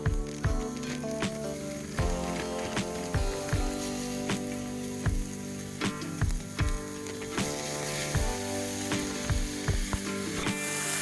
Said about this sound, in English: you can hear when the hamburger is sizzling, my pan is definitely hot enough